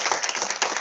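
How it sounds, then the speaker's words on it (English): A research seminar audience gives a brief round of applause, a short scatter of clapping that sounds somewhat thin and muffled. "Let's give a round of applause"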